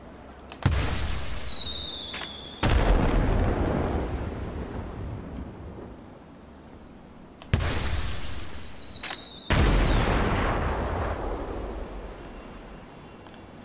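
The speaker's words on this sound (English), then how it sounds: "And I've only got 3 fireworks left as well." Fireworks and flares in GTA 5 go off in two loud bursts: whistling launches followed by heavy booming explosions that roll and crackle as they fade away.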